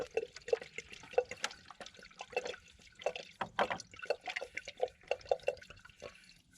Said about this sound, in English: Open this up, and then pour the whole contents in.